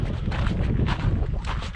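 Breezy morning wind on the Devil's Hall desert hiking trail in Guadalupe Mountains National Park, a loud buffeting rumble over the microphone with gusty swells, continuous and close, with no talking.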